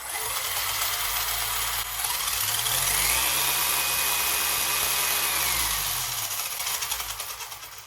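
A WLtoys 104001 RC car's electric motor with a 33T pinion runs at full throttle, a loud steady whine that rises and falls in pitch over about eight seconds, with no talking.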